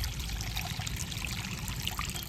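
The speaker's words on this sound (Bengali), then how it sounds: "জল দিয়ে দেব।" Water is poured steadily into a wok set up to boil raw mango pieces, giving a continuous, close, splashing trickle for about two seconds with no voices.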